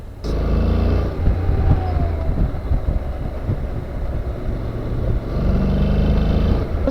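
A Honda NC750X motorcycle on a test ride gives a steady, close roar of engine and rushing wind that holds without a break, swelling slightly near the end, with no one talking.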